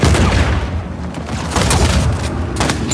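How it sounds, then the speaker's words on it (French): Uncharted 4 online bounty hunter match with a grenade blast and gunfire: dense, loud booming bursts and rapid crackling shots in quick succession over about three seconds, with no talk. "Lance une grenade!"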